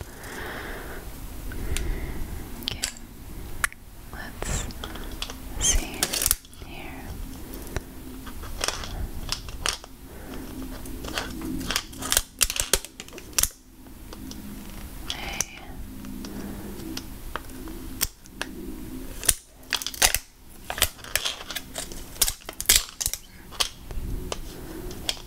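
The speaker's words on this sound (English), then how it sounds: "My scissors." Scissors snip and crinkle through mini toy packaging, producing close, quiet clicks and plastic rustles scattered irregularly across the stretch.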